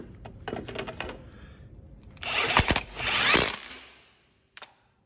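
A socket wrench ratcheting down the nut on a headlight bulb mount of a 1999 Polaris Big Boss 500 6x6 ATV: a few light taps, then two bursts of close ratchet clicking, then a single small click.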